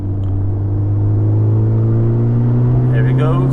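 A Honda Civic Type-R FK8 accelerates from inside the cabin, its exhaust giving a steady loud drone and deep rumble that holds evenly throughout, with a voice speaking briefly near the end.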